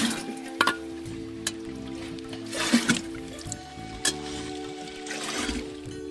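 Water trickling and dripping at a mountain spring where metal pots are filled, with soft splashes, a few sharp clinks and faint background hum.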